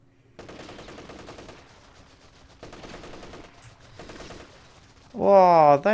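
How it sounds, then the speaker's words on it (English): Machine gun fire in Company of Heroes 3, three faint bursts of rapid shots with short pauses between them, followed by a loud voice at the end. "that machine gun's very annoying"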